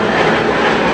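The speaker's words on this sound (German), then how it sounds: "eine alte Hawker, die Lärm macht" Steady, loud roar of an old Hawker business jet engine, continuous and unbroken, with a broad rushing hiss filling the whole second.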